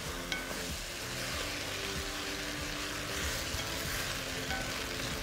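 Rice for Mexican rice crackling and frying in a pot with oil, a continuous close sizzle with occasional light scrapes of stirring, no voices.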